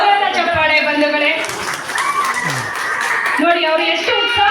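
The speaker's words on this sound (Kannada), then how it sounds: "ಜೋರಾದ ಚಪ್ಪಾಳೆ ಬಂಧುಗಳೇ." Applause and clapping from an audience at a women's association event in Karnataka, mixed with a loud voice and music-like tones, lasting throughout under continuous sound.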